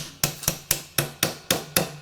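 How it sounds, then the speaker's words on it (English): A hammer taps the outer barrel of an S&T Star Wars Stormtrooper E11 airsoft rifle, seven sharp metallic strikes in an even rhythm, close and clear with no talking. "we're going to take the good old hammer, tap that."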